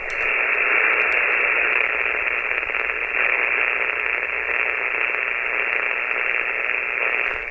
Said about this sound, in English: You can hear the grinding noise come back up in the background.